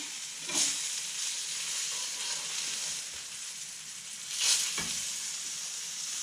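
Mackerel fillets sizzle steadily in a hot pan during a Roman-style fish cooking lesson, a close, even hiss that swells into two brief louder bursts as the fish is stirred or turned. No one speaks.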